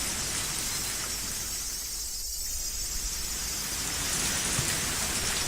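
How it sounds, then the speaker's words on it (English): Torrential rain from the Higurashi When They Cry Hou visual novel pours in a thick, constant hiss of heavy drops, steady and loud from start to finish, with no voices. "Even in this torrential downpour, Reina was still apologizing."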